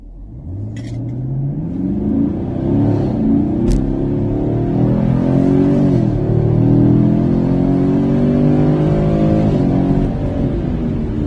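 A 2019 Chevrolet Camaro engine revs steadily, its pitch climbing and falling in long sweeps, loud and close, with a brief click partway through.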